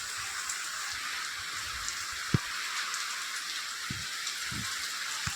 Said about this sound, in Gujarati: વરસાદ અત્યારે કમ્પ્લીટિંગ ચાલુ થઈ ગયો છે